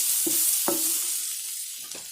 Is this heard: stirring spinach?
yes